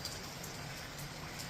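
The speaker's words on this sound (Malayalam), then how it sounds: "ഇന്നാണ് മഴ പെയ്തത്" Rain falls steadily outdoors as a faint, even hiss and patter with no other sounds over it.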